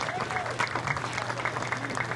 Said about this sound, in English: Let's have one more round of applause for all of our 2021 Shaler Area Senior Soccer Players